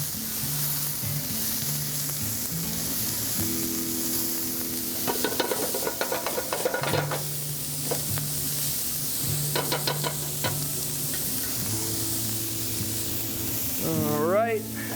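Garlic and mirepoix sizzle steadily in a hot pan for venison gravy, with stirring clinks and scrapes and a hum in the background, while a person talks at times.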